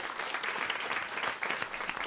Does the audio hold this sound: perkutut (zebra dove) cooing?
no